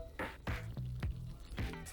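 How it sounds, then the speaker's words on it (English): Coffee drips and trickles through a KeepCup pour-over brewer in soft, irregular wet plops and gurgles, close and quiet, with no talking. "Instead, just letting it drip through the middle."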